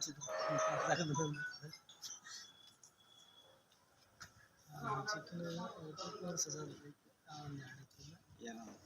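A goat that has just given birth to five kids in Bagalkot makes bleating livestock calls, with a louder cry near the start and fainter bleats later, mixed with talking nearby.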